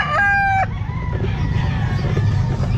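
A rooster crows loudly and close at a Calumpit pet market, one long crow that breaks off early, followed by a bed of clucking fowl and market hubbub.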